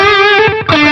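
A sustained distorted electric guitar note through a Line 6 Helix slapback delay, a quick repeating echo giving a short, stuttering doubled attack before a new note rings out.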